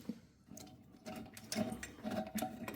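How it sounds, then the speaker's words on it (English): A socket wrench ratchets a bolt loose on a bathroom mono basin mixer tap. Quick rhythmic clicking bursts repeat close by at low volume, with no voices. "Now we need to undo that bolt at the top there. Right, I'm using a socket."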